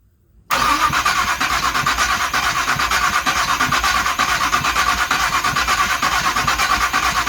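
After a brief quiet moment, a 1974 Oldsmobile Omega engine cranks over on its starter with a steady, rapid pulsing churn that stays loud and close until the end.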